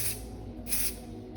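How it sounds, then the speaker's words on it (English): Working hairspray from an aerosol can is sprayed onto styled conical-wand waves in short bursts, two soft hissing sprays close by, fairly quiet, with no talking. "I'll add a little bit of hairspray."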